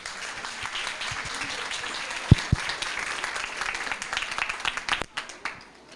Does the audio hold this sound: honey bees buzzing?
no